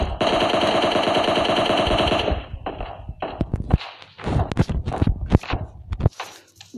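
Rapid automatic gunfire in the video game PUBG Lite, a dense sustained burst for about two seconds, then scattered single shots and thuds, loud and close.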